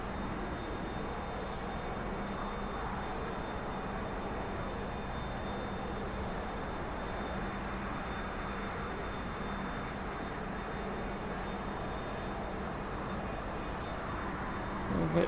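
A T-45C Goshawk jet trainer's engine in the DCS flight simulator, throttled back while descending toward an aircraft carrier, makes a steady, unbroken airy roar and hum that holds at the same level throughout, with no talking.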